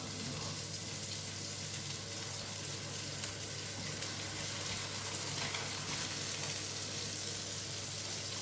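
A mackerel fillet frying in a pan, with a steady, even sizzle and crackle throughout and a faint voice now and then underneath.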